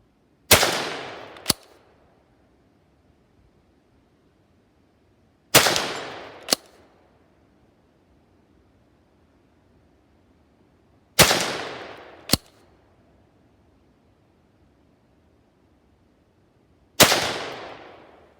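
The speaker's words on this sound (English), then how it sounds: "we've got some targets set up at 60 meters. We're just going to do some plinking." Savage A17R rifle in .17 HMR fired at targets 60 meters away: four loud, sharp cracks, each followed by a fainter impact report about a second later, separated by several seconds of quiet outdoors.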